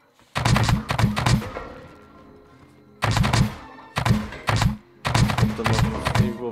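Bursts of rapid gunfire in Scrap Mechanic in three loud volleys separated by short pauses, each burst a quick string of sharp shots with ringing tails.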